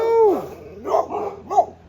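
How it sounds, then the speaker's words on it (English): Labrador guard dogs on an off-grid homestead let out a close, drawn-out whining howl followed by a few short yips and barks. "8 Labrador guard dogs."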